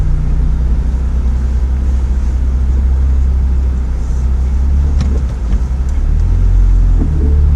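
A Ford Fiesta ST engine idles at operating temperature with a loud, steady low rumble, holding constant throughout with a few faint rattles near the end.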